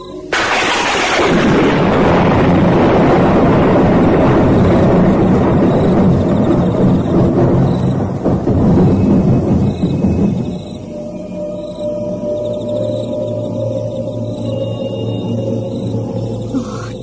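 Loud thunder crashes and rolls for about ten seconds, heavy and booming, then fades into a quieter steady rumble with no voices.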